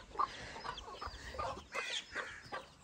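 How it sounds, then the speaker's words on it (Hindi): Chickens clucking inside a cage, with a quick run of close, fairly soft clucks and squawks repeating over a few seconds. "मुर्गियाँ हमारी दोस्त इधर पकड़ी हुई हैं"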